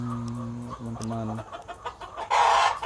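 KUB chickens cluck close by in short bursts, with a rooster-like call rising loudly near the end.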